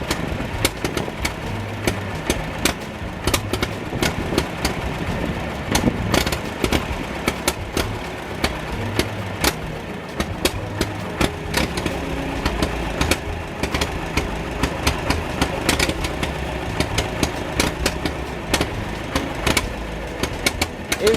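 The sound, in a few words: Massey Ferguson 135 Continental 2.4L gas engine running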